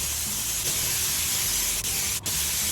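A loud, continuous airy hiss of a SATA HVLP spray gun spraying top coat paint at about 40 psi, close by, with two brief dips where the trigger eases off.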